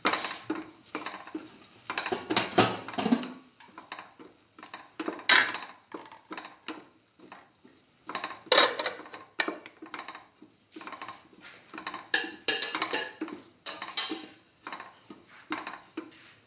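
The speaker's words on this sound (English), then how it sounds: "Keep on sauteing." Food sautéing in a pan for a potato coconut stew, with repeated clinks and scrapes of a utensil stirring against the pan and bursts of soft patter, fairly close, no talk.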